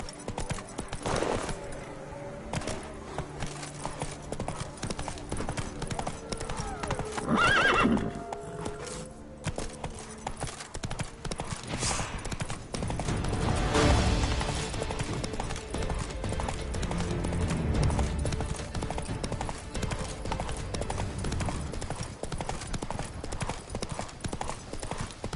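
Roach, Geralt's horse in The Witcher 3, galloping with rapid rhythmic hoofbeats and a loud whinny partway through, joined by ambient game sound.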